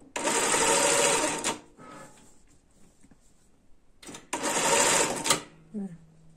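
A sewing machine stitches ribbon onto a handmade bag in two loud, steady bursts of about one and a half seconds each, with a quiet pause of faint handling between them.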